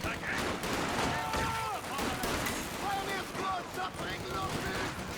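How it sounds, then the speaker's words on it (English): Machine gun fire in Company of Heroes 2 during a 2v2 match, a dense, steady crackle of gunfire and battle noise that runs throughout, with a commentator talking over it. "Pushing up now with a machine gun."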